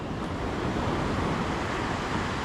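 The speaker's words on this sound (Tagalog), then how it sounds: "rinig na rinig ko yung alon" Ocean waves washing onto a beach, a steady broadband rush of surf with some wind noise, continuous and fairly close for the whole stretch.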